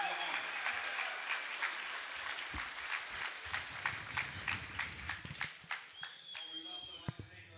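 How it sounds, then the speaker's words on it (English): Crowd applause at a Titans of the Cage MMA event, a scattered wash of clapping heard through a thin, distant arena sound with voices underneath, tapering into sparser individual claps toward the end. "Let's give them a round of applause for their support."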